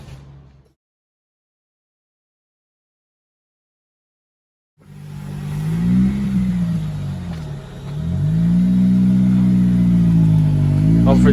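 A Honda Civic Type R FN2 on Gecko coilover suspension pulls away for a test drive after a silent gap, its engine droning steadily and rising through the revs in loud, close sweeps.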